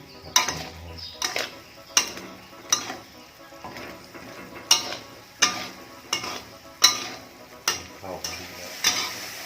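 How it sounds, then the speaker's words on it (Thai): Green curry paste is stir-fried in a pan, with about a dozen rhythmic scraping strokes of a spatula over a steady, close sizzle. "ผัดจนหอมนะคะคุณลุง"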